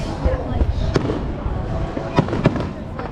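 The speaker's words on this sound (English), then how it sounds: "Fireworks." Fireworks crackle and pop in a distant, continuous barrage with a few sharper bangs, while a crowd murmurs and people talk nearby in Atlantic City.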